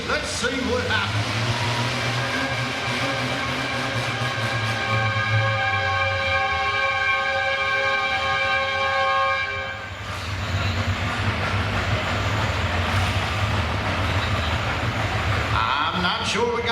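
A pulling tractor roars at a winter tractor pull in Chatham, VA, in a 12-mile-per-hour class, dragging a sled: a loud, sustained engine drone with a steady high whine that dips briefly midway and then resumes, while an announcer talks over it.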